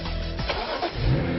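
A six-cylinder car engine cranks and fires up, then the exhaust revs with a deep, heavy roar, loud and close with no talking over it.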